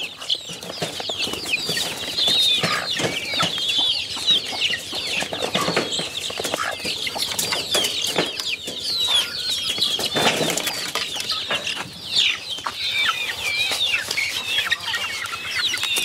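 Hen and her small chicks feeding on a melon, giving steady clucks and high peeping chirps with rustling and wing flutters, close and continuous without speech.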